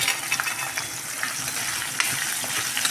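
Dried fish frying in a pan, a dense steady sizzle with faint stirring clicks, close and continuous over a few seconds, no talking.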